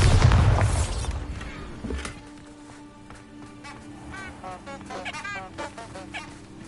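A Bombarda spell explodes in Hogwarts Legacy with a loud, deep booming blast at the start that quickly fades, followed by quieter honking, creature-like game sounds.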